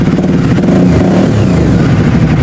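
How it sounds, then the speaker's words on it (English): An Aprilia Shiver motorcycle engine revs hard up close, a loud, dense, rasping roar with rapid throttle pulses and some mechanical clatter, filling the short stretch without pause. "Coming down, I've got some good revs out of it."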